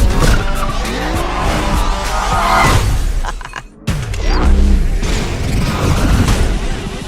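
Car tires screeching and skidding as the handbrake is pulled during a high-speed chase, loud over a dense action soundtrack, briefly dropping out before the roar of engines and music resumes.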